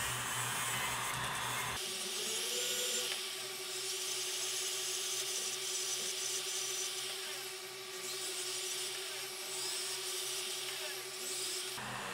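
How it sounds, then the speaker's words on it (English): Rotary tool with rubber-tipped polishing bits running on silver and brass jewelry, a steady high whine with a constant tone that holds loud and close throughout, no talking. "you can use the little polishing rubber-tipped finger things that I have"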